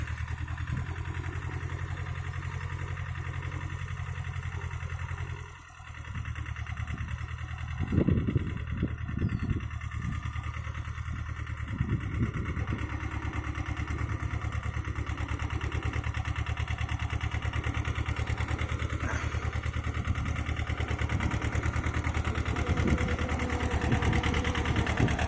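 A tractor engine idles steadily nearby, a continuous low rumbling chug with a fast regular throb, holding level throughout with a brief dip and some clatter partway.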